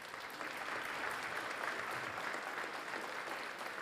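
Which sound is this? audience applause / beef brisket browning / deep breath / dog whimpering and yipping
audience applause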